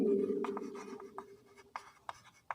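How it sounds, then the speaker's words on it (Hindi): Chalk or marker writing on a classroom board during a maths lesson, a series of short tapping strokes after a voice fades out. "तो अपन यहाँ लिखेंगे दिया गया व्यंजक"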